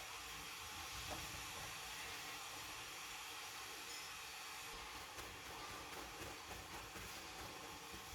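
Potato pieces for potato popcorn frying in hot oil, giving a loud, steady, close sizzling hiss that carries on unbroken from start to finish.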